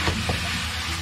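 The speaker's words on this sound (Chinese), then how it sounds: "先把这两样给它炒一炒" Beef and carrots stir-fry in an iron wok, giving a steady, close sizzle with faint scraping stirs throughout a brief stretch, no voices.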